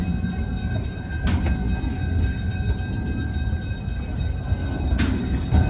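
A small zoo ride train running along its track, a steady low rumble and rattle of wheels heard up close, with two brief sharp squeals or clanks cutting in.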